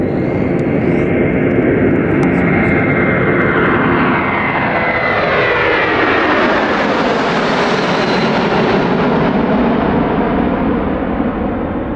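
A Boeing 747-400 jet takes off at Phoenix, a loud roaring engine rumble that swells and sweeps in pitch as it passes overhead, then recedes while still strong.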